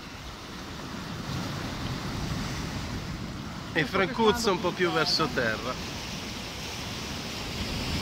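Sea surf breaks on a fishing shore in low swell, a steady broad wash of waves and wind noise, while someone speaks in the middle of the clip.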